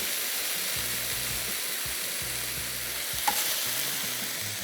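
Minced meat frying in a pan on a stove, a steady close sizzle with repeated scraping stirs of a utensil and one sharp clink, no talk.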